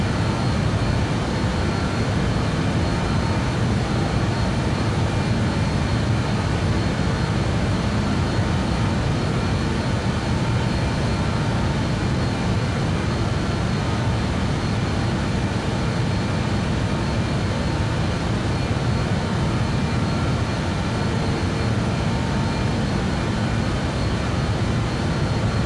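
An aircraft engine cruises near Mach 0.7 in Microsoft Flight Simulator 2020, a steady, unchanging broadband drone and hum that fills the whole stretch with no other sounds.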